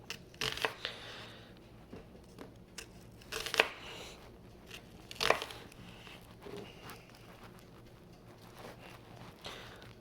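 A knife slices a vegetable into rings on a cutting board, giving a few close, crisp crunching cuts with quiet pauses between them and no talk.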